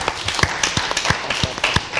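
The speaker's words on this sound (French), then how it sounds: "On va applaudir Aude Cabré." Studio audience on a French-language talk show applauds as a columnist is introduced, a steady wash of clapping with distinct sharp claps standing out, close and fairly loud throughout.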